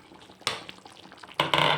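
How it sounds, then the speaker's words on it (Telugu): Tamarind juice poured into a pan of simmering tomato masala curry, giving two bursts of splashing sizzle against a quiet bubbling background. "మనం చింతపండు రసం పోసుకొని."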